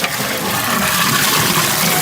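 Plain water poured steadily into a container for making homemade watermelon ice cream in a village, a continuous loud splashing gush that lasts throughout.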